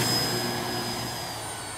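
Model plane engine revving steadily for a short takeoff, a continuous loud whine with a high-pitched tonal edge that holds even and slowly eases over under two seconds, with no talking.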